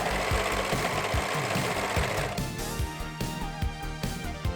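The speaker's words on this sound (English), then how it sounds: "Then it was time to serge every single seam, every single one" A serger sewing machine runs steadily through the seams of a Costa del Sol Tifa cosplay costume, giving a dense, continuous mechanical whir with a rapid knocking stitch rhythm, close and loud, with the pace easing slightly partway through.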